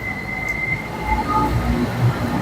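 Metro train at a metro station, a continuous rumbling rail noise with faint wheel squeal and a steady high tone, close and moderately loud with no talking.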